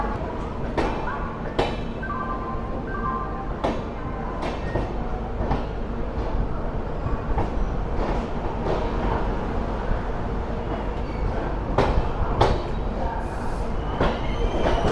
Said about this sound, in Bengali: ট্রেন যেহেতু 1 মিনিট লেটে ঢুকেছে, তাই কিন্তু 1 মিনিট লেটেই ছাড়লো ধানবাদ জাংশনের 2 নম্বর প্ল্যাটফর্ম।